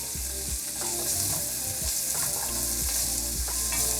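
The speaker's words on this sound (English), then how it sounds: "just let these carrots and peppers cook" Carrots and small peppers sizzle steadily in a hot pan, a loud continuous fry with periodic scraping stirs and light clatter of a utensil, no voices.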